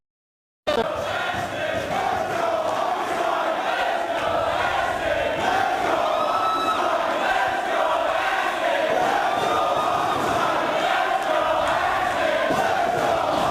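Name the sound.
wrestling crowd cheering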